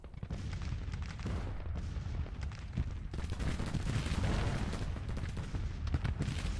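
Dense, continuous battlefield fire from Civil War-era artillery and massed musketry in the strategy video game Grand Tactician, with rolling booms and crackling volleys layered over one another throughout.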